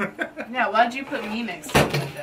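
Indoors beside a bay window, a dog knocks over the power brick for a ring light, a sudden loud clattering thud that cuts in just after a person finishes speaking.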